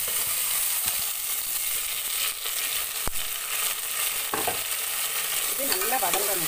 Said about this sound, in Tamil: இதையும் நம்ம இதோட சேர்த்து வதக்கிட்டு போகிறோம்